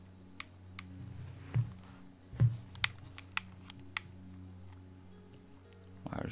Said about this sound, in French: avec des bruits de manette.